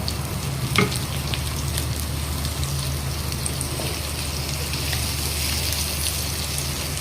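Green chili and curry leaves frying in hot oil in a pan, making a continuous close, crackling sizzle with one brief sharp pop near the start and a low background hum.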